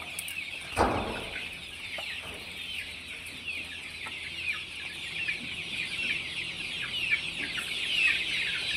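A flock of poultry-farm chickens clucks and chatters continuously in the background, with a single dull thump near the start.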